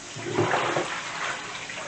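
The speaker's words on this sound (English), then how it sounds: "So make sure you wash it well. You drain off the water." Water runs and splashes briefly while raw chicken is washed and drained, a close, moderate rush that swells early and then settles over about two seconds, with no voices.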